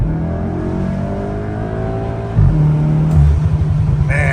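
A hand-controlled Volkswagen GTI tuned past 300 hp accelerates hard, its loud, close engine note climbing steadily before a gear change drops it into a deeper, heavier roar that keeps building. No one speaks.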